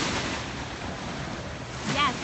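Ocean waves and wind at South Beach, a steady broad wash of surf with gusty wind noise on the microphone, a slight swell in loudness near the end.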